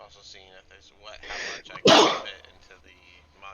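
One loud, abrupt sneeze cuts through a conversation during a tabletop game session, close to the microphone, with speech continuing around it.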